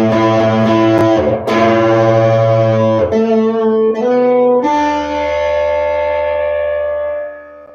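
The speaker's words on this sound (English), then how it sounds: "that's what we call that ring modulation effect" A sustained electric guitar chord with a harsh, metallic, warbling ring-modulated tone, shifting pitch in a few steps before fading out at the end.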